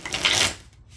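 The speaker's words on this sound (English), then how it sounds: "I've been shuffling this deck for a minute now" Deck of playing cards being shuffled in one quick riffle burst lasting about half a second, close and fairly quiet, then fading.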